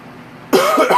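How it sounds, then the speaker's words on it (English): A single sharp cough bursts out close by after a moment of quiet room tone, followed by a couple of rougher, throaty hacks. "That cough has been bothering me way too long today."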